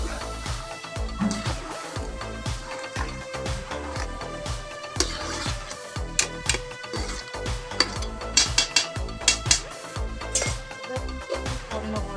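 Beef biryani is stirred in a cooking pot, a ladle scraping and knocking against the metal in uneven, close strokes with rustling of rice between them.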